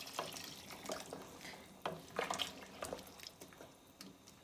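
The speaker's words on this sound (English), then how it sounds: "So we're gonna go in with some more hot water" Hot water is poured into a soup pot of sweet potato dumplings and provisions, with soft splashes, drips and a few clinks of the pot, close by and fairly quiet, without talk.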